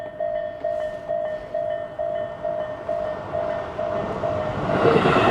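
A metro train arrives at a station with a steady repeating electronic beep tone while the rumble and rising hiss of the approaching train swells louder toward the end.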